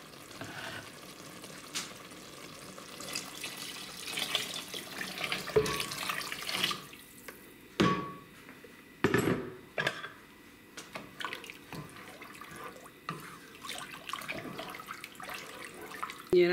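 Water poured into a pot of elbow macaroni soup with vegetables and ground beef, a steady close splashing flow mixed with sizzling, interrupted by a few louder clanks and stirring sounds.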